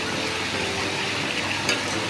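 Meat and potatoes stir-fried in a small kadai, a dense continuous sizzle with a faint scrape of stirring, steady and close.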